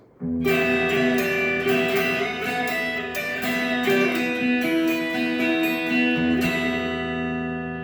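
A bright guitar rings out a repeating pattern of open-string notes that sustain and overlap, loud and close with no voices.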